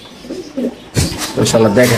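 Pigeons coo softly at a fancy pigeon farm, a low repeated murmur in the first second, then a voice speaks over the birds.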